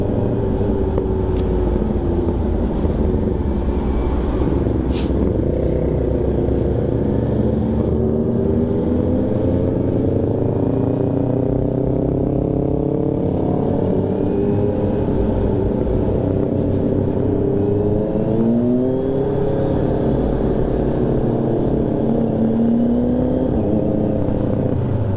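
A motorcycle cruising along a road on the way home, its engine droning steadily with gentle rising and falling pitch as it shifts, loud and close with rushing road noise and no talking.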